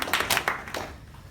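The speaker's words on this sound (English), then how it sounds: "Maybe give me a little clap." A small audience gives a brief, light round of scattered hand claps, a handful of soft claps over about a second that quickly fade out.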